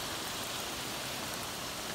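Heavy rain pours steadily during a thunderstorm in Toms River, a dense, even hiss of drops hitting surfaces with no breaks, close and fairly loud, no voices.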